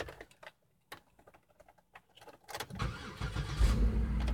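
Car engine that had been sitting out in cold weather, cranking with a few irregular clicks and turns before catching and settling into a louder, steady rumble at the end.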